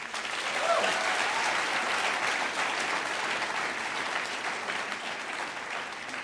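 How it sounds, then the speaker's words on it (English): Sustained applause from a large audience at a graduation ceremony, dense and steady clapping that fills the whole stretch without fading. "Can we give them a round of applause?"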